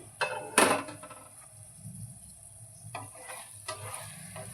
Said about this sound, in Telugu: ఇప్పుడు ఒకసారి కూర కలుపుకుందాం